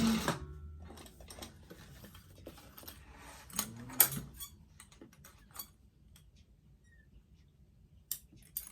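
A sewing machine stitches a convertible pack in short back-and-forth runs, quick rattling ticks in brief bursts with quiet pauses between, close and fairly soft.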